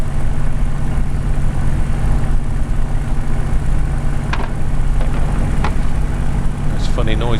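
Spitfire L.F Mk IXc piston engine in Microsoft Flight Simulator, throttle pulled back too far, giving a steady loud low drone with brief odd pops and whines near the end.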